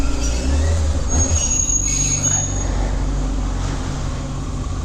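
Stock-exhaust engine of a 2002 Yamaha YZF600R motorcycle running steadily with a low, even rumble, close and continuous without pauses or revving.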